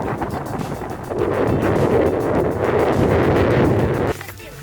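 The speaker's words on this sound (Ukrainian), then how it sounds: "Вітер такий, що говорити важко і дихати." Strong wind with fog roars across the microphone in heavy, continuous buffeting gusts on the summit of Mount Syniak in the Carpathians, then drops off abruptly near the end.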